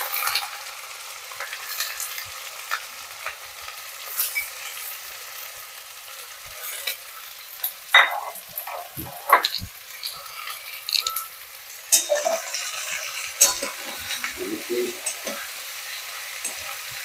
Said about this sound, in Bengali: পেঁয়াজটা একদম লাল করে ভেজে নেব।